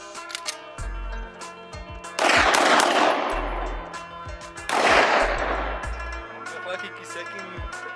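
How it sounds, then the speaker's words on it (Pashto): Pistol shots fired outdoors in a village near Loe Shalman in Pakistan, two loud sharp bangs a few seconds apart, each ringing out with a long echo, amid lighter background clatter. "هغه په تماچه باندې ډزې کولې"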